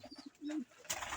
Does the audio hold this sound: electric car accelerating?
no